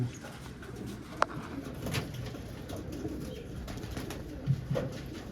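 Soft pigeon cooing in a quiet space, with occasional faint bird calls and a few small knocks and rustles.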